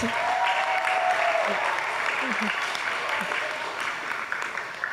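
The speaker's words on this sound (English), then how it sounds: "Round of applause." Steady applause from a high school audience at a gun violence awareness assembly rolls on evenly for several seconds, full and close, with a few faint voices mixed in.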